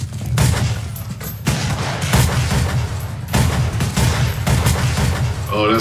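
Gunfire from a shootout scene in HBO's The Wire, heard as a dense, continuous barrage of loud bangs and booms with a few brief lulls, played back in the room.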